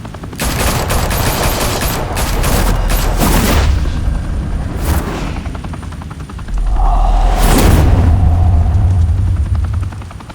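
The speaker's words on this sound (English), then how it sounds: "Open fire!" Sustained gunfire bursts roar in the Batman Telltale video game, dense volleys with heavy low booms and a whirring rotor-like drone, loud and continuous for most of the span.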